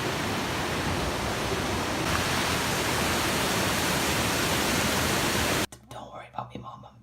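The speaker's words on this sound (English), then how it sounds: "we got to hike up the other side and got one last look at the waterfall" A waterfall in Morocco roaring as a steady, loud broadband rush of falling water for most of the stretch, then cutting off abruptly near the end, followed by quieter scattered sounds.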